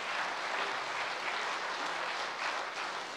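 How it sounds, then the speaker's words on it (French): A conference audience at a closing session applauding themselves, dense sustained clapping from many hands, steady and fairly loud throughout with no voices. "Vous pouvez vous applaudir."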